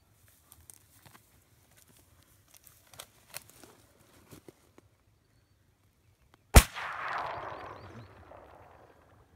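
A single sharp gunshot cracks out nearby during a hunt, followed by a long decaying echo, after a stretch of quiet faint rustles and small clicks.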